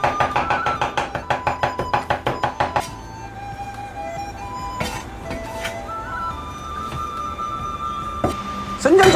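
A kitchen knife chops soaked shiitake mushrooms into small bits on a board in quick, even strokes for a few seconds, then stops, leaving light clinks and kitchen background.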